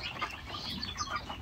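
Poultry chickens in a small farm shed cluck and shuffle about while feeding, a faint, continuous murmur of scattered bird calls with occasional wing rustles.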